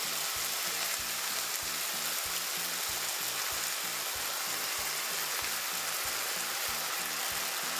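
Soy sauce sizzles and crackles steadily in a hot pan of chicken wrap filling, a dense frying hiss with a repeating low rhythmic thump underneath, and no voices.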